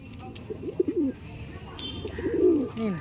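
Madrasi pigeons (Andhra lambari/rekdar) offered for sale, cooing close by in two soft, rolling bursts, with faint background noise between them.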